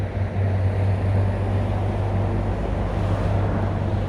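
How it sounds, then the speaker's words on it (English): Steady low vehicle rumble at a TA truck stop in Fultonville, New York, a constant engine drone filling the background without break. "I'm at a truck stop, so it's going to be noisy."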